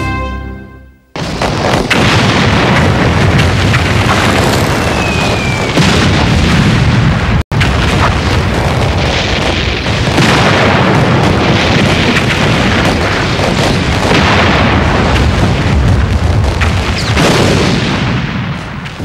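World War I artillery barrage of shells exploding, a dense, continuous, loud roar of overlapping booms and blasts with almost no pause throughout.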